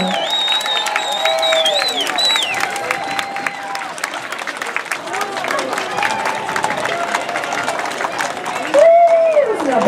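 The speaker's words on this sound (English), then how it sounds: "Let's give them a big round of applause again" Spring parade crowd in San Juan Capistrano applauding and cheering marchers, loud outdoor clapping mixed with whoops and rising shouts, people talking and calling out throughout, with a louder burst near the end.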